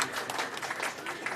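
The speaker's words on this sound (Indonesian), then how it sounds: "Boleh tepuk tangan untuk para ketua DPC" Crowd clapping for party branch chairs at a political gathering in Jakarta, a dense, fairly loud burst of applause filling the whole moment with no speech over it.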